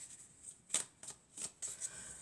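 Deck of oracle cards being cut and handled, soft papery riffles and flicks in a few short bursts, quiet and close.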